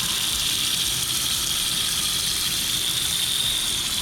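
Water gushes steadily from a newly installed faucet, run to flush the pipes, starting with the cold side. The hiss is even and unbroken, close by, with no one talking.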